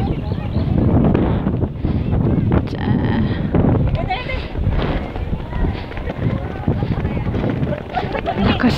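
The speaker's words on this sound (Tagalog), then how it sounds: "Lakas ng hangin, oh." Strong wind buffets the microphone with steady roaring gusts, while a person talks over it.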